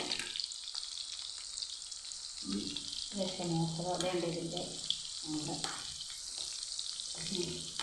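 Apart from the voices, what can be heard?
fish frying in oil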